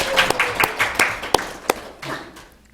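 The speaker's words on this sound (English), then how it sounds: "I think that deserves a round of applause." A small audience at a school board meeting gives a brief round of applause, with sparse, distinct individual claps standing out before it fades away.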